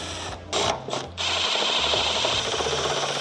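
Short M6 bolts being driven into roller shutter rails on a GWM Cannon Alpha ute, with two quick whirring bursts from a power driver followed by a sustained mechanical drone with faint clicks, close and fairly loud.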